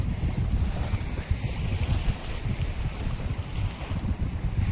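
Strong sea wind at Talsari beach near Digha, a loud continuous rush and buffeting against the microphone with surf rumbling underneath, and no voices.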